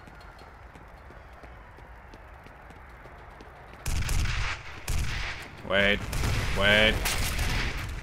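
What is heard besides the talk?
gunfire in video game FEAR Extraction Point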